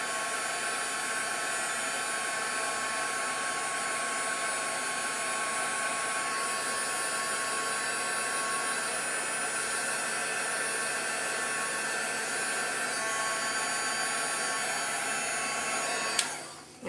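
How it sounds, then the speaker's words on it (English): A handheld heat gun blows steadily, drying shimmer mist sprayed on paper for card crafting, a loud continuous whirring hiss held throughout before cutting off abruptly at the end. "just dry it a little bit with my heat gun"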